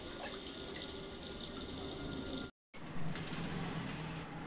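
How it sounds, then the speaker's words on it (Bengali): Tomatoes are washed one at a time under a running kitchen tap, a steady close hiss of flowing water that cuts out for a moment before resuming. "একটা একটা করে আমি ধুয়ে নিচ্ছি।"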